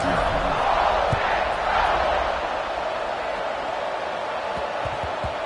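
A stadium crowd roars at kickoff in a college football video game between Ole Miss and Florida, a broad, dense wash of cheering that is loudest at the start and then settles into a steady murmur.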